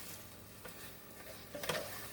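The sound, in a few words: vegetables sizzling while stir frying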